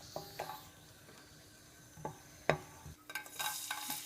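Cashews fry in ghee in a pan with a soft, steady sizzle, punctuated by scattered clinks and scrapes of a spoon stirring, quiet and close, with no talking.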